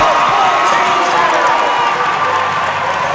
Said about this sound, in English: you can hear the crowd behind me getting into it here today